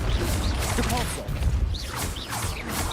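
Depulso spell effects in a Harry Potter video game burst out in a dense, continuous clash of whooshes and thuds over a steady low rumble, with voices calling spells in the mix.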